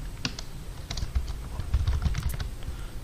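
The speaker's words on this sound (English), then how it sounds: "Now go to your notepad and type the code." Code being typed on a computer keyboard, a steady run of close, crisp key clicks with uneven rhythm and a few heavier strokes, no voice.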